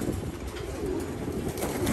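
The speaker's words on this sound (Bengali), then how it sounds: "আমাদের হাজি ইব্রাহিমের শখ, ওনার খুবই শখ এই ধরনের কবুতর কালেকশন করা বা বাচ্চা করে ছাদে উড়ানো।" Pigeons cooing on a rooftop loft seven storeys up, a collection of quality birds kept for breeding and flying; soft steady low coos fill the short stretch under constant background noise.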